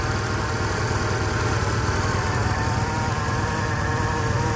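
A Chevrolet Camaro's 2.8 V6 idles steadily up close in its engine bay, a continuous mid-pitched hum with a fine vibrating buzz, alone without voices.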